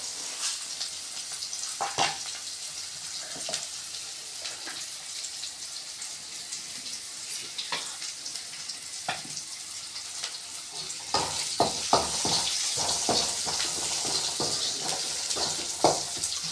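Onions sautéing in a pan for chow chow kootu, a Tamil vegetable dish, give a steady close sizzle with scattered sharp scrapes and stirs, growing louder and busier in the later half; no one speaks.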